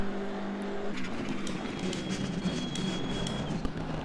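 A GT race car lapping in Assetto Corsa Competizione, driven with a control pad on Xbox Series X: a steady engine drone with shifting tonal whine, moderately loud and continuous, with a faint click near the end and no talking.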